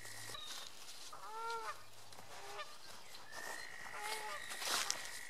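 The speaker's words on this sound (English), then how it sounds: "You can hear some noisy geese in the background." Several geese honk repeatedly in the background, their nasal calls coming in uneven bursts over a faint hiss of outdoor ambience.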